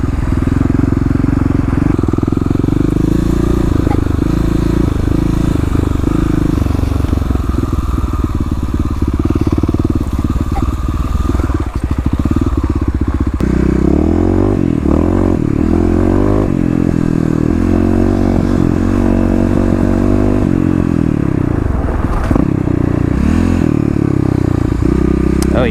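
A Kawasaki KLX351 EFI dirt bike roars continuously in a gravel pit, its single-cylinder engine revving hard and rising in pitch through the gears, loud and close with gravel clatter.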